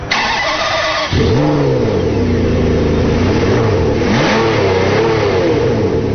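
Ferrari 599 GTB Fiorano V12 engine revving hard, a loud close continuous roar that rises and falls in pitch through repeated rev sweeps after an abrupt start.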